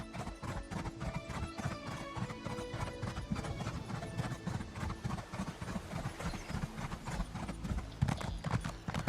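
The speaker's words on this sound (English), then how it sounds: "I'm going to have to ride my horse all the way up there" Horse hooves clip-clop steadily in a quick, even rhythm as a rider travels in an Elder Scrolls video game, loud and continuous over a busy game soundtrack, with an occasional whinny and no talk.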